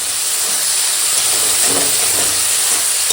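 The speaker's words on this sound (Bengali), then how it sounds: "দেখো এখন টমেটোটা একদম সুন্দর করে কষিয়ে নিচ্ছি" Tomato fries in a pan with turmeric and salt for a Bengali raw-tomato dal, giving a loud, constant broadband sizzle and hiss that stays steady throughout.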